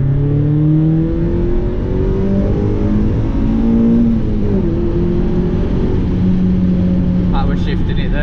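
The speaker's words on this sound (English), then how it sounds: "I was shifting it there, which is where you don't take your foot off the throttle during a gear change" Mazda MX-5 engine revving in steady, close in-cabin drone as gears are shifted with the throttle held open, pitch stepping between gears under a loud continuous engine note, with a brief higher whir near the end.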